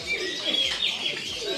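Ornamental pigeons at a market stall selling fancy pigeons and chickens give soft, low repeated coos up close, with a few faint chirps mixed in.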